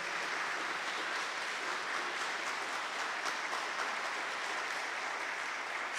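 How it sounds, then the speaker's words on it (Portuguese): Audience applauding at a Catholic talk on consecration to Our Lady, a dense, steady wash of clapping from a large crowd that holds evenly throughout. "Pode aplaudir, pode aplaudir."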